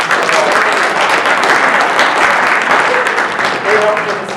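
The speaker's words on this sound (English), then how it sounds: "Let's give them a round of applause." Steady audience applause fills a workshop room on hazardous weather communication, dense and sustained throughout, with faint voices murmuring underneath.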